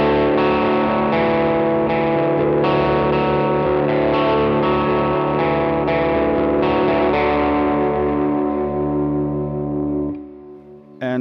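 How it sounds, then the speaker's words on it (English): An electric guitar runs through a Tube Screamer-style overdrive pedal into an amp, giving slight breakup. Sustained, gritty chords are struck every second or so and ring out before fading at the end. "Now we have put a tube screamer type pedal in front of the amp, so you will hear a little bit of breakup."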